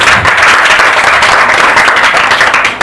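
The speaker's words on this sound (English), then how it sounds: "A warm applause, please." Steady applause from an audience, dense clapping that holds evenly throughout and ends abruptly.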